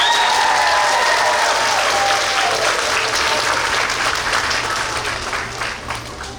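Graduation audience applauding a class of pre-K graduates, loud and full crowd clapping that starts strong and gradually tapers off toward the end, no voices heard.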